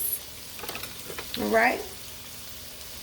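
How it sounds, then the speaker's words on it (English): Spinach with cherry tomatoes sautéing in a pan gives a soft sizzle with a few stirring scrapes, swelling briefly mid-clip beside a short spoken word, then settling into quiet hiss. "Let this saute for about a minute or so."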